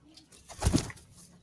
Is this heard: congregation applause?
no